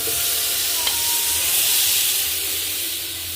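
Fresh butter sizzles steadily in a hot pan, a loud, continuous frying hiss held close throughout with no talking.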